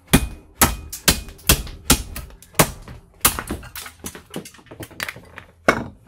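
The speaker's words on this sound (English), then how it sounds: "Just gonna whack that with the hammer." A hammer strikes a piece of plastic attached to die-cast scrap metal, giving a steady series of sharp, loud whacks about twice a second with lighter taps between them.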